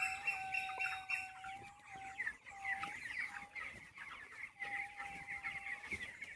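Broiler chickens at 24 days old cluck and chatter steadily on a poultry farm, a dense flock with repeated calls throughout and no talking.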